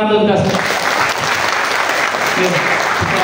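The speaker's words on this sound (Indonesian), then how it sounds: "Tepuk tangan untuk kita." An audience at a disaster-preparedness workshop claps together, a loud sustained round of applause after a brief opening of music, continuing steadily to the end.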